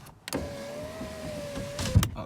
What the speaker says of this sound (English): It's so much easier to be able to open that window just by pushing a button, basically.